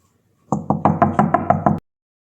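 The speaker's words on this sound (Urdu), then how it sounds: "وہ سیدھا کمرے کے دروازے تک گیا اور زور سے دستک دی" Loud knocking on a room door, eight firm evenly spaced raps in a quick steady rhythm, close and clear against silence.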